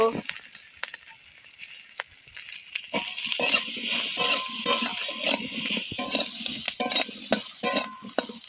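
Chopped capsicum and eggplant fry in oil in a kadai and are stirred steadily, with continuous sizzling and repeated scraping of a spatula against the pan, close and fairly loud.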